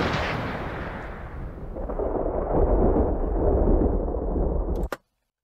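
A game-ready gunshot sound effect layered with low bass and noisy ambient tails, heard as a dense, loud rumbling burst that swells and sustains for several seconds before cutting off with a brief sharp crack at the end.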